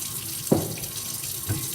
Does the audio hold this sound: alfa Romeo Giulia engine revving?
no